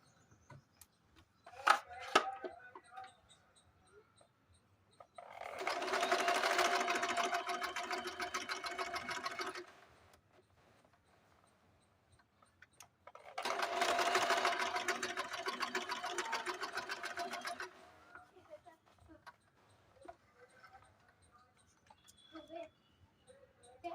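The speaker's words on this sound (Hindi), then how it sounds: "यहाँ से यहाँ तक हमको सिलाई लगा देनी है" A sewing machine stitches a blouse in two close, steady bursts of several seconds each, separated by a quiet pause with light handling clicks.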